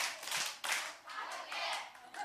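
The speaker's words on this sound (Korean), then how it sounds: "박수 3번 시작" Children at a Korean church youth service clap in rhythmic bursts, several broadband hand-clap bursts spread across the moment, fairly close and moderately loud with faint voices underneath.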